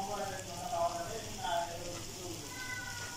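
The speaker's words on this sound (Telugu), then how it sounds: "బాగా కలర్ చేంజ్ అయ్యేంత వరకు అలా వేయించుకుంటూ ఉండాలండి." Onion with ginger garlic paste frying in a pan: a faint, steady sizzle with soft crackles and a couple of light scraping stirs, under a quiet background hum.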